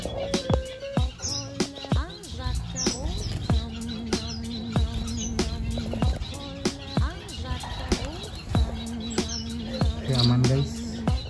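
Small finches chirp and tweet repeatedly in quick, high calls, overlapping one another nearby amid a busy background of clicks and rustles.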